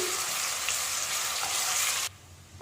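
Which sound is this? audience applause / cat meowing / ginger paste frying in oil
ginger paste frying in oil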